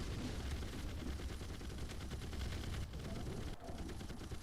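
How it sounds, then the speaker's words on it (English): Dense, rapid bursts of automatic gunfire in the video game Red Solstice Alpha, sustained and continuous throughout with little pause. "Let's go ahead and just keep shooting."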